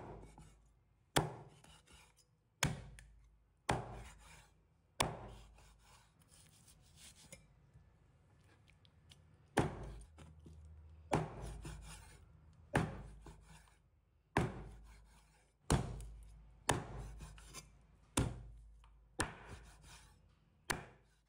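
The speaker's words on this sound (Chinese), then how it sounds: "将鸡肉剁成小块" A cleaver chops raw chicken into small pieces, about fifteen sharp, heavy thuds in a slow, fairly even rhythm with a short pause midway, each blow ringing briefly before the next.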